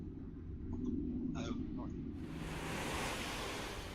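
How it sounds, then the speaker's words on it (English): Distant ocean waves echo through a dungeon as a steady, broad surf-like wash, rising after a brief voice and continuing alone. "apart from the echoing of the wave sound coming from the distance"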